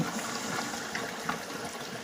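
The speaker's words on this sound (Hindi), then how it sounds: "अब हम इसमें डालेंगे पानी।" Water poured into semolina in a large pot for halwa, a soft continuous trickling and splashing stream, fairly quiet and steady without talk.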